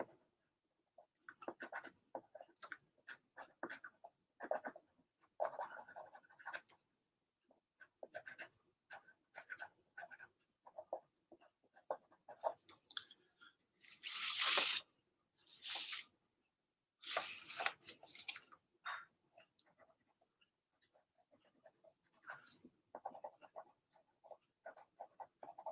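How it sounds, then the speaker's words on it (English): Micron ink pen drawing on paper, close scratchy strokes in irregular short bursts with pauses, plus a few longer rustling sweeps, quiet and without talk. "So let's go ahead and ink this in so we can see it better."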